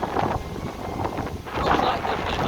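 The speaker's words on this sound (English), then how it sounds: "Very windy." Wind buffeting a microphone outdoors near Thrapston, a loud, steady rumbling roar with gusty swells and no speech.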